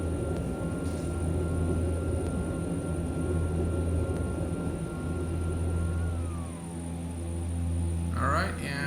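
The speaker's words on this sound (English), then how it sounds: "Gear is going up." Landing gear on a Saab 340 retracts in X-Plane 11, a steady turboprop drone and whine holding beneath a brief mechanical clunk and whir near the end.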